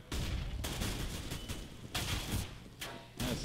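Gunfire in a Counter-Strike pistol-round firefight rattles in rapid dense bursts, loud and continuous with brief gaps between volleys, no talk over it.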